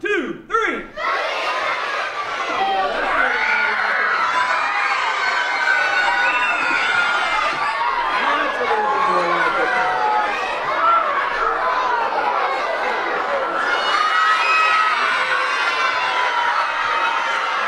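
An audience of children at a show shouts together loudly and continuously, a dense sustained roar of many young voices with a few sharper peaks, following a short opening count from a man.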